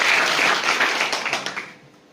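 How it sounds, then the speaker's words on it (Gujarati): A seated audience at an organic agriculture products talk breaks into a burst of applause that is strong at first, then thins and fades away within about two seconds. "જોરદાર તાળી થઈ જાય તમારા માટે."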